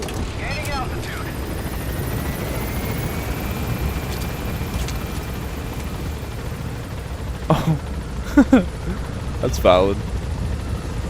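A helicopter gains altitude in Metal Gear Solid V: The Phantom Pain, giving a continuous low rotor rumble beneath a man's brief remark, with a few sharp game sound effects near the end.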